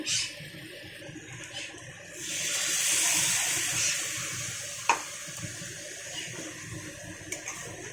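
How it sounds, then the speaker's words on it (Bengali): Water is poured into a hot pan of poppy seed paste, swelling into a rushing hiss for a few seconds before settling back to a quieter simmer with a sharp clink. "এটাকে ধুয়ে একটু জল দিয়ে দেবো"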